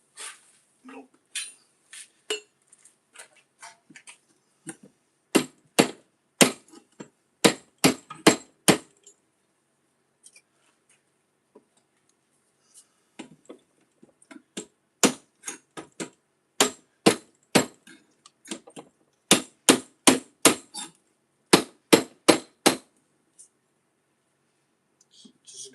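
A hammer strikes a knife blade during a stress test, producing many sharp metallic taps in irregular clusters. Some come as quick rapid runs, others as spaced single hits, with short quiet gaps in between.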